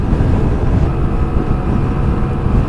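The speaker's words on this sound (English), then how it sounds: "we have a little wind, oncoming wind" Oncoming wind buffets the microphone while riding a 2021 Vespa Primavera S 125 scooter, a loud, steady, low rushing roar with no speech.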